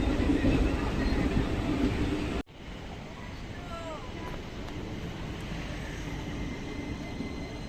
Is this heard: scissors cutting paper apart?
no